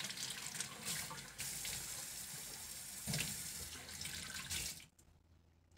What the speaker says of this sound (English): So I'm gonna take these out. I'm gonna rinse them off.